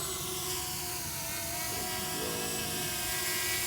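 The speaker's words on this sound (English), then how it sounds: "Wake up the drone." Hubsan Mini SE drone powering up and flying, a continuous high-pitched whining buzz of small propellers that holds steady and rises slightly in pitch partway through, heard up close and alone.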